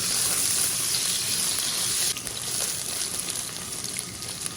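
Scallion and ginger pieces hit hot cooking oil in a wok, a loud bright sizzle that crackles steadily and then drops slightly in intensity about halfway, continuing without any talk.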